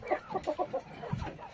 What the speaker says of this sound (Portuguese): Olha os frangos.